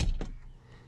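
A Toyota Yaris Hybrid front door shuts with one short, soft thunk close by, followed by a faint fading rattle and quiet background.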